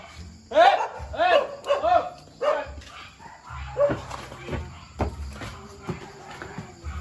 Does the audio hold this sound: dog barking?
yes